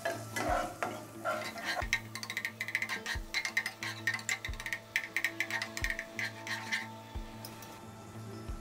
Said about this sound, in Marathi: अशा पद्धतीने दही व्यवस्थित मिक्स करून घ्यायचं आहे।